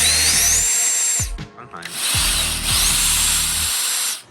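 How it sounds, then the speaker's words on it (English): Power drill boring hinge holes, whining steadily at high speed in two long bursts split by a short pause, with small knocks and clatter around the gap. "I drill down."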